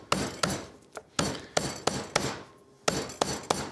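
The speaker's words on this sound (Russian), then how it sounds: "я сейчас возьму одну штуку, которая называется молоток для мяса" Sharp, close thuds land about every third of a second as a meat mallet pounds lemongrass stalks, each hit followed by a short rustling decay.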